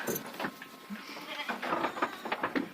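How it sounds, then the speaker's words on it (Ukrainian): Adult goats bleating close by in a farm goat pen, several overlapping cries in quick succession, loud and restless. "Дорослі кози поступово заходять"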